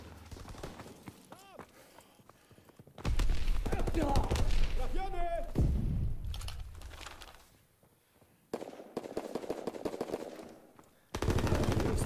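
Bursts of World War II battlefield gunfire in the video game Call of Duty: WWII, loud rattling volleys that start and stop in blocks, with machine-gun-like crackle alternating with quieter stretches holding muffled game voices and effects.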